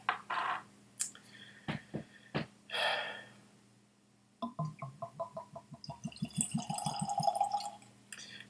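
Springbank 15 whisky is poured from a corked bottle, a short run of quick glugging gurgles following some handling clinks and breaths, close and fairly quiet.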